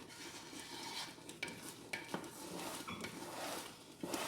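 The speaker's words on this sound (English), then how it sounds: "this is the crucial part, guys, where you really want to stir, stir, stir" Spoon stirring a thick New Orleans praline candy mixture in a pot, with continuous scraping and swishing plus a few sharp clinks against the pot rim, close and steady with no talking.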